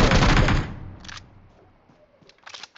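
Sniper rifle fire in the online shooter BGMI: a loud burst of gunfire opens the sound and fades within a second, followed by a few quieter, sharp clicks and cracks that end in another short flurry of shots.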